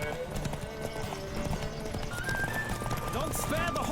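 Hooves clip-clop at a rapid gallop close by in a Witcher 3: Wild Hunt horse race, with a horse whinnying, while voices carry on over the steady pounding.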